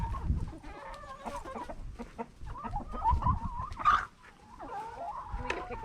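Roosters on a farm cluck and call in scattered bursts, fairly close, with short squawks and one sharper cry rising over quiet background movement.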